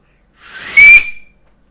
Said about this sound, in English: Oh yeah, I can still whistle.